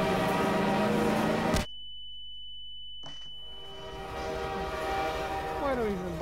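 Train rumbling past in Half-Life 2, loud and dense with a sustained horn tone, then a sudden cut to near silence with a lingering steady whine before the rolling rail noise returns.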